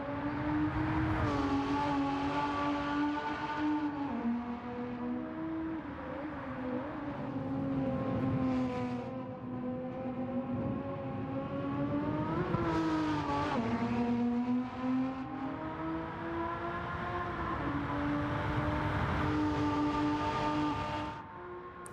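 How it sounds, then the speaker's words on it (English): Porsche 911 of the 993 generation in Gran Turismo 7, its engine and exhaust droning loud and steady with rising and falling revs through gear changes, a continuous throaty flat-six tone with no talk. "these Porsche 911s have such an iconic sound, and again here, Porsche just nailing it with the sound of that engine"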